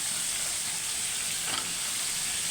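Fish fries in a pan on a stovetop burner, heard as a brief, even hiss of hot oil at moderate loudness, with one slightly brighter burst midway.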